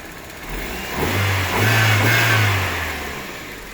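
A Toyota Corolla engine with a faulty PCV valve revs up from idle, a loud mid-pitched roar that swells, holds for a couple of seconds and eases back down, close and without speech.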